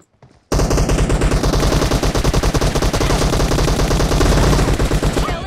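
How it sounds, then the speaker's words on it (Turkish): Automatic weapons fire rapidly and continuously in a PUBG Mobile match, after a short quiet start, dense loud bursts of overlapping shots from both sides with no pause. "O arkadan geliyor, bana vuruyor, ben ona vuruyorum"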